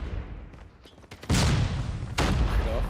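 Gunfire bursts and a grenade blast in a competitive video game match, with two loud broadband impacts cutting in over sparse shots and a steady noisy background.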